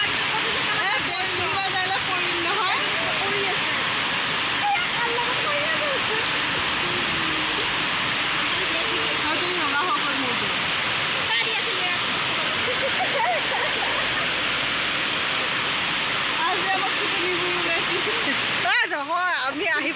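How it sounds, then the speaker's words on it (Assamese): Heavy rain pours down in a dense, unbroken roar for the whole stretch, with people talking faintly beneath the downpour. "আজি বৰষুণ হ'ব বুলি ইমান ভবা নাছিলোঁ"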